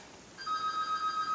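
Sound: phone ringtone ringing

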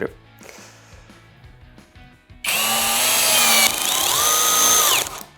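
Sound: cordless drill driving long screw into wood

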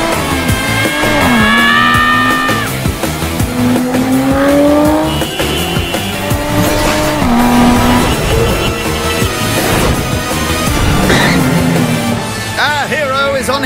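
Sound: cartoon car speeding through city streets

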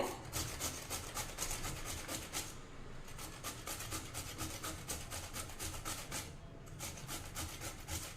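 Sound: grating raw plantain

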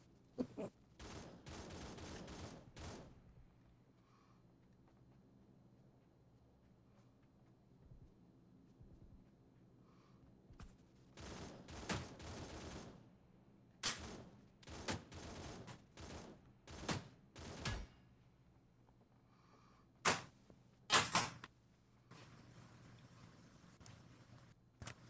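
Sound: gunfire in the video game PUBG New State

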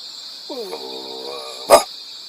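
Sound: person imitating a puppy in a guessing game

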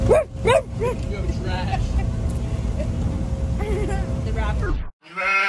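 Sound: person imitating a dog barking

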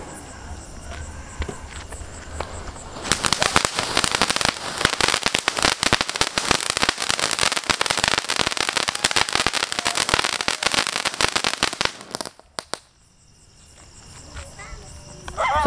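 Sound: lollipop firecrackers bursting, Sivakasi crackers

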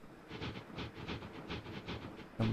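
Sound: train in a city-building video game

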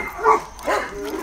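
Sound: neighbour's dogs barking

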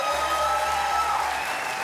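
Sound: applause

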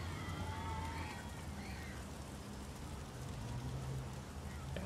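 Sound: rain falling in video game Heavy Rain

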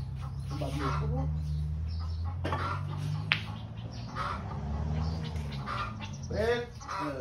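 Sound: duck calling

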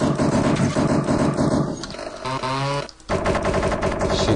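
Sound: gunfire shooting the desktop in a desktop destroyer video game

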